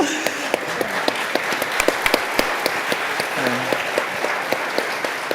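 A smaller audience at a cybersecurity competencies panel claps, with distinct individual claps audible in the steady applause and brief voices mixed in underneath.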